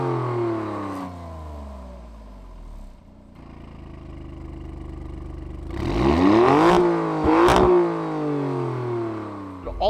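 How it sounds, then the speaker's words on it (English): A 2018 Alfa Romeo Stelvio Quadrifoglio AWD in race mode revs its engine, the exhaust note rising and falling through repeated sweeps and growing louder in a sharp, aggressive burst near the end. No one speaks. "switching into race mode changes the exhaust note."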